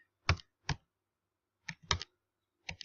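Short bursts of keystrokes on a computer keyboard, a couple of quick clicks, then a pause before another cluster, close and fairly quiet with no talking.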